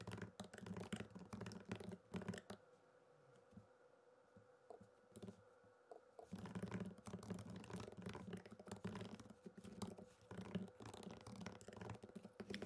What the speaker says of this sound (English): you can check my typing speed